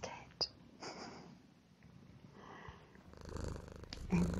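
A domestic cat purrs softly in a very quiet, close-miked setting, a faint low rumble building toward the end, with soft whispered speech and small mouth and movement sounds around it.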